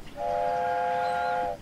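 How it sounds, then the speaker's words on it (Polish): A cartoon train horn sounds once as a loud, steady, multi-tone blast lasting over a second, clear and close with no speech over it. "To klakson Billy'ego."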